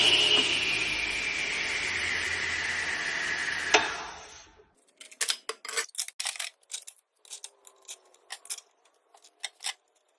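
A radial arm saw runs with a loud steady whine for about four seconds, then its brake stops it abruptly, leaving quiet with scattered light clicks and taps nearby.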